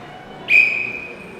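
A referee's whistle gives one sharp, shrill blast, loud and close, at a half-time show on a court, trailing off over about half a second against quiet background.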